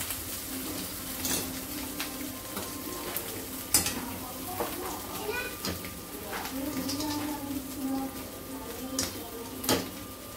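Ginger-garlic paste fries in hot oil in a pan, a steady sizzle broken by scraping stirs and sharp metallic clinks of a spoon against the pan, with a voice talking at times.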